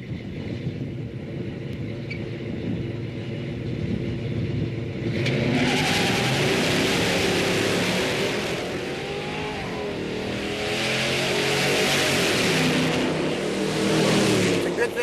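A muscle car at a drag-racing shootout revs up and launches, the engine roaring louder with a rising pitch as tires break loose, preceded by a lower idle; faint voices in the background.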